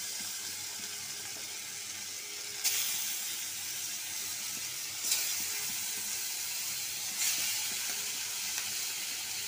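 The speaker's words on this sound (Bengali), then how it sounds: "মাছটা দিয়ে দিই, বিসমিল্লাহ" Hilsa fish sizzling in hot oil in a wok, a steady bright frying hiss throughout with three sharper crackling bursts as pieces settle, close and fairly loud, no talk.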